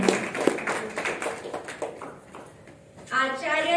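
An audience at an indoor spirituality program claps in a dense burst of applause that gradually thins and fades, and then a voice begins speaking over a microphone.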